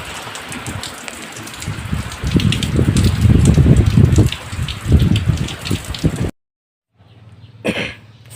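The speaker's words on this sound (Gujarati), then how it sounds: "વરસાદ પણ ચાલુ થઈ ગયો જો" Rain pours down at a local fair, a steady rushing patter that swells in the middle, then cuts out abruptly before a brief faint return.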